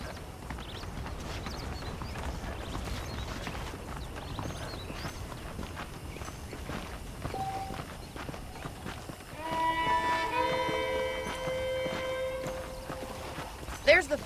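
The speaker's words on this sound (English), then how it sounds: "The horses are saddled up over here." Horse hooves clip-clop steadily in the video game Red Dead Redemption, moderately close at a walking pace, with a horse whinny and game music entering near the end.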